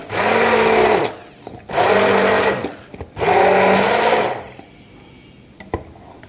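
Kitchen blender whirring through a milk mixture in three loud bursts of about a second and a half each, separated by short pauses, then stopping, with faint clatter afterward.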